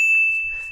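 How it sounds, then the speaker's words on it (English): A single bell struck once, giving a clear pure ding that rings on steadily and slowly fades, close and alone. "Other members of the troupe will ring a bell."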